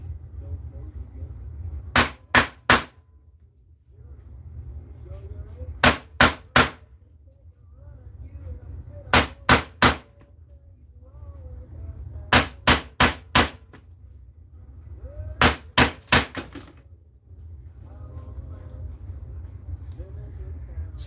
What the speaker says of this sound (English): This is why I like using my press as I hammer on this.